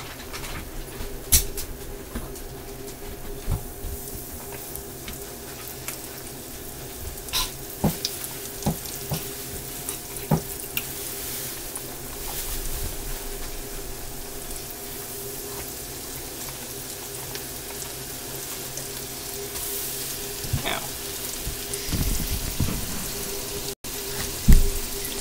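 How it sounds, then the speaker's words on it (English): Food fries in a pan with a constant low sizzle and scattered pops and crackles over about twenty-five seconds, close by and without any voices. "Now we'll let them cook."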